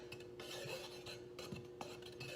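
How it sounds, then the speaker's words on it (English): Flour, baking powder and salt are stirred together in a large mixing bowl, with faint, quiet scrapes and clinks of a utensil against the bowl in irregular strokes. "In a large mixing bowl, mix flour, baking powder, and salt. So I'm just gonna mix those together."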